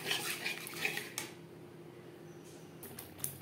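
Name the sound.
stirring spices and sour yogurt in a pan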